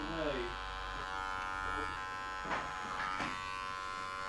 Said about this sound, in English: So clipper over comb, just taking out the weight